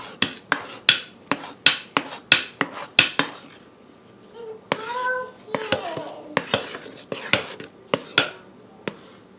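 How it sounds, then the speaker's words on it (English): A batch of jasmine-scented soap stirred by hand, with sharp rhythmic clacks of a utensil against the container in a quick series, then a pause filled with a voice before the clacking picks up again. "So we're gonna mix this in real good."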